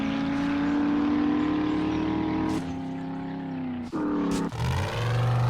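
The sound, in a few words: car driving in 7 Days To Die video game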